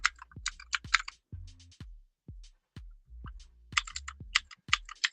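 Close, crisp keystrokes on a Moonlander keyboard, tapped in irregular bursts with short gaps between clusters of clicks and no talking.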